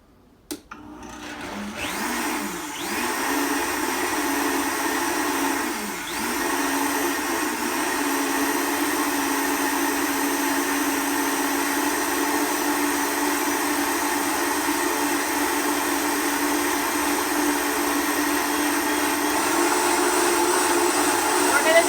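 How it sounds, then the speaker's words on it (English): A blender making homemade butter whirs at a steady high-pitched whine after a brief start-up, running continuously and loudly with no pauses. "We're going to start our blender."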